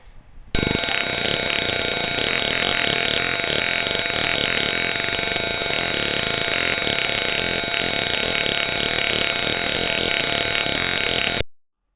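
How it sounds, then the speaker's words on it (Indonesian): A loud, piercing buzzer in a Tinkercad Arduino circuit simulation, triggered by a gas sensor, sounds one continuous high-pitched tone for about eleven seconds, then stops abruptly. "si buzzer akan mengeluarkan bunyi yang nyaring ketika sensor gas mendeteksi adanya"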